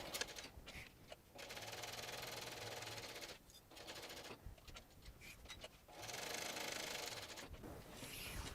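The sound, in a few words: sewing machine basting a sling bag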